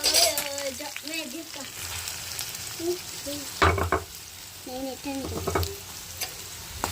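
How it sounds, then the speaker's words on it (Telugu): Ginger, garlic and onions sizzle steadily in hot oil while a spatula scrapes and stirs through them. A voice talks faintly in the background. "అల్లం వెల్లుల్లి వేసుకొని కొంచెం లైట్గా ఒక నిమిషం వరకు ఇలా తిప్పేసేసుకొని ఆనియన్స్ వేసుకుందాం"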